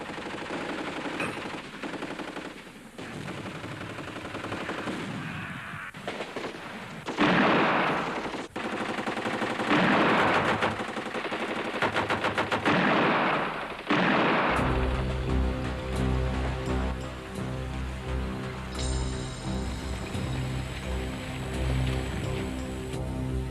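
Machine gun and rifle fire crack in bursts as covering fire in a wartime battle scene, loud and close, with rain-like rattle and dense sustained gunfire building toward the end.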